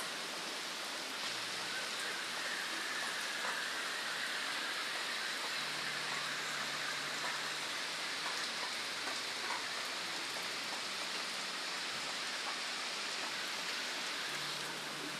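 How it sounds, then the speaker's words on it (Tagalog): Heavy rain falls steadily, a dense even hiss of downpour close around, continuous for the whole stretch with faint low hum underneath and no voices. "Kaya, yan, pagmasdan ninyo yung ulan"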